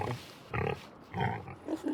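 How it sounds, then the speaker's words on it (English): Pigs on a farm grunting and oinking in three or four short bursts, fairly close and moderately loud, with no talking. "So our farm now has some fresh oinkers out here"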